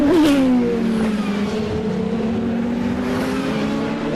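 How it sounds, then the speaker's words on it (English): GT2 race cars, including a Ferrari, pass at speed on a circuit, a loud, rising-then-falling engine whine that sweeps by near the start and trails off into a sustained mid-distance drone. "GT2 Ferrari just went by"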